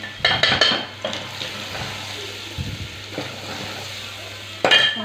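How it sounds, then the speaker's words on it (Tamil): Ground spice paste for tomato rasam sizzles in a pan, a close, moderate frying hiss broken by quick metal scrapes and clatters of stirring at the start and near the end. "அரைச்சி வச்ச விழுதெல்லாம் அப்படியே சேர்த்துக்கணும் கரைஞ்சிடக்கூடாது ஓரளவுக்கு வதங்கணும்"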